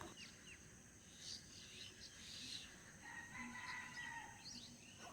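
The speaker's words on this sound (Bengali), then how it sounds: "পাখিদের কিচিরমিচির আর মোরগের ডাকের সাথে আমার জন্মদিনের সকালটা শুরু হলো" A rooster crows at a distance in the morning while birds chirp faintly, all quiet and soft over a steady background hiss.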